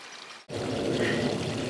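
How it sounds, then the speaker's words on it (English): Pump-fed mini high banker for gold prospecting: water flow kicks in abruptly and then pours in a steady, loud, close rush with no talking. "Seems like we got a good flow, pump's working. Water running off is going right back into the area"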